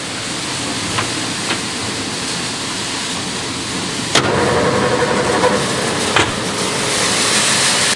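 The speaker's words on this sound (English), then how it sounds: "Start the dryer up for the morning." A grain dryer starts up partway through with a sudden click, then settles into a loud, steady roaring hum, preceded by a constant background drone.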